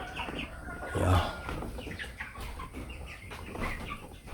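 Five-week-old broiler chickens in a farm house on sawdust litter, with scattered clucks and soft calls from many birds nearby, one louder squawk standing out early, with no voices.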